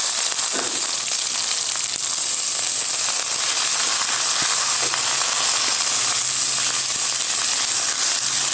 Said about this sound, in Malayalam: അത് നന്നായിട്ട് മൂത്ത് വരുമ്പോൾ നമുക്കിതിലേക്ക് പയറിൻ്റെ ഇല ചേർത്ത് കൊടുക്കാം